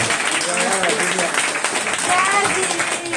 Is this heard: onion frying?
no